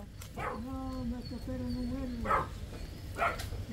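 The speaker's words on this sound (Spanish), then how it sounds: "Uy, me va a morder el perro." A dog at a rural home gives a few short barks and whining yips, close by, with people talking over it.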